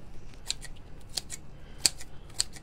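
Scissors snip through a craft sign, giving a handful of crisp, close cuts spaced irregularly over a quiet background.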